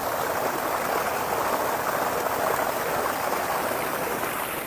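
Strong, high-pressure water gushes from a tap into a container in a village home, a steady, loud, continuous rush with no voices.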